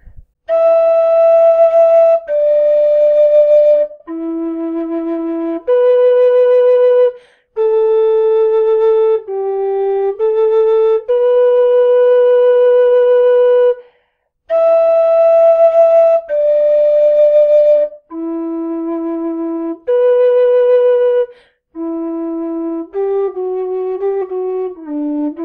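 An MK Pro low D tin whistle plays the Game of Thrones title theme alone: clear, breathy sustained notes in a steady melodic line, loud and close, with short breaks between phrases.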